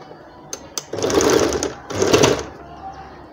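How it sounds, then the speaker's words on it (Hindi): A domestic sewing machine runs in two short bursts, stitching the shoulder seam of a child's umbrella frock. Its close, buzzing whir has brief clicks before it, and a little quiet talk sits around it. "चलो इसको भी 1/2 इंच की दूरी पर सिलाई लगाएंगे"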